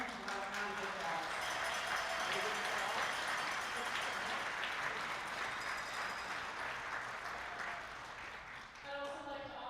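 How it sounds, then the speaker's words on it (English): A crowd applauds volunteers at a women's curling championship final in an arena, a sustained, dense round of clapping across the whole stretch that eases slightly near the end, with some voices mixed in. "They deserve another huge, huge round of applause."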